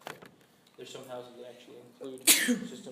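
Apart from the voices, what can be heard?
sneeze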